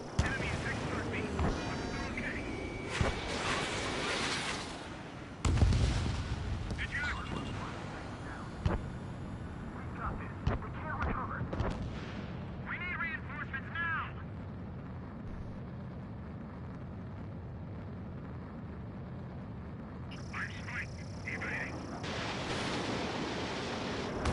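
Missiles launching and exploding in the jet combat game Ace Combat 7, a steady roar of jet noise punctuated by repeated sharp bursts and rumbling blasts, with voices speaking over parts of it.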